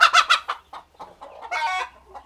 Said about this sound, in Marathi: ज्या कोंबड्यांना अंडी द्यायची आहेत त्या कोंबड्या अशा माठापाशी येऊन बसतात